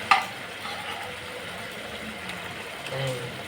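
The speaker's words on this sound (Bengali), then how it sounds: "ঝোলটা দিয়ে আমি এই যে ভেজে রাখা কই মাছগুলো দিয়ে দিচ্ছি" Fried koi fish drop into a simmering gravy with a sharp clunk at the start, followed by a low, steady sizzle and bubbling and a faint background hum.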